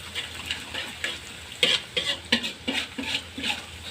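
Onions frying in a pan as a spatula stirs them, giving a run of soft scrapes and taps at an uneven rhythm over a low sizzle, close by and with no voices.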